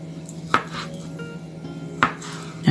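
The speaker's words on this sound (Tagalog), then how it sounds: "Hiwain natin ang ating pumpkin." A knife chops through pumpkin on a cutting board: two sharp, separate, close-up cuts about a second and a half apart, followed by a heavier bump at the end.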